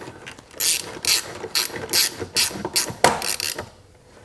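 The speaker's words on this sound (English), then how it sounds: "And then we'll go ahead and tighten up those 2 screws." A ratchet tightening the fuel injector screws on a Chrysler 200 3.6L V6, heard close up as about a dozen crisp clicking bursts in short uneven strokes, with a brief pause before the final strokes.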